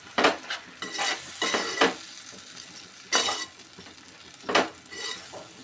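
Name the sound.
stirring tomato puree into egg tomato curry in a pan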